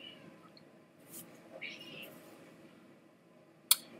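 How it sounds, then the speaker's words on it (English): A single soft meow from a cat rises briefly in a quiet room, followed by a sharp click near the end. "You might hear my cat crying in the background again."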